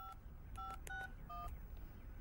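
A telephone number is dialed with a quick series of DTMF keypad tones, about six short two-pitch beeps in an uneven rhythm, close and clear over a low background hum.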